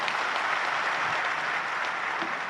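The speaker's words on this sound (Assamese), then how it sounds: "তালি দিবলৈ আমি অনুৰোধ জনাইছোঁ।" Audience applause at a formal event with a government minister present, dense and steady clapping that holds at full strength for the whole stretch.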